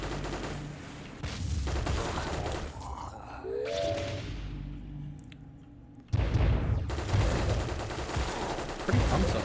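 Gunfire bursts loudly from armed eyeball characters in the video game Madballs in Babo: Invasion, with dense volleys, a quieter lull midway, then heavy firing resuming abruptly.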